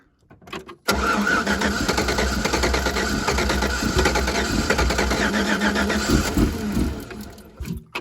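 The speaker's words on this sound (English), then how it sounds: "It runs terrible, but give it a crank there." An old truck engine that had sat unstarted for about three years cranks briefly, then catches and runs roughly for several seconds at a loud, uneven idle before dropping off near the end.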